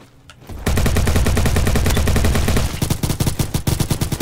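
Rapid automatic gunfire in the Roblox shooter Bad Business, a loud sustained burst after a brief quiet start, then continuing in choppier repeated shots.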